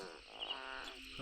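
Frogs calling after fresh rain form a dense, continuous chorus of trilling and chirping at a moderate distance, steady throughout, with no one speaking.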